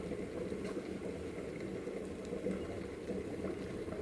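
Rava-coated fish fry in hot oil in a pan, giving a soft, steady sizzle that stays faint and even throughout.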